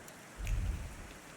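Rain falls in The Thaumaturge video game, a faint, brief patter with a soft low swell midway and no voices.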